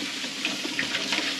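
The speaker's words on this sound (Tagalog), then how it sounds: "bababad muna natin sa tubig kasi masyadong marumi" Water splashing and swishing as very dirty items are soaked in a basin to loosen the grime, a steady close wet churn with a few brighter sloshes, no voices.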